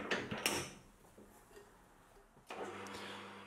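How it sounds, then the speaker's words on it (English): Solid brass bar stock is clamped into a three-jaw lathe chuck: a few quiet metallic clunks and rattles near the start, a low hush, then another clatter of the chuck jaws tightening. "I'm going to start by chucking it up in the three jaw chuck"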